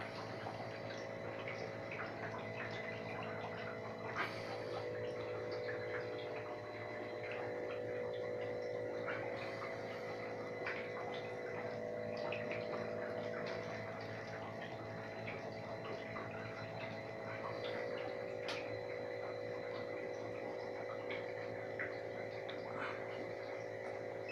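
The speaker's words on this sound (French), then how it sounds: "ça fonctionne, les petites bulles" Bathtub massage jets running, a steady bubbling, churning water sound with a low pump hum underneath, close and continuous for the whole stretch with no talking.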